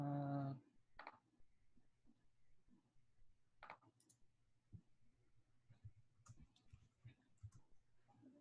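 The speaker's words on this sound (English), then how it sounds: "I'm typing in that if it helps you find it." Keyboard typing during an online meeting: scattered soft key clicks and taps at an irregular pace, quiet and close, with no talk over them.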